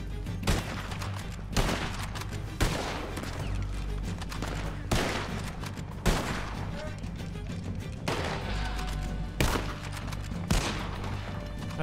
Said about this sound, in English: Okay, he's shooting. He's all shooting.